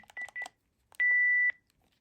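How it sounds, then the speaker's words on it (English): A Panasonic KX-PRS120 phone gives a high-pitched talkback tone, a steady beep lasting about half a second, preceded by two short keypad tones. "the tone heard on the external phone when pressing #1 for talkback or #0 for turn off is the high-pitched tone"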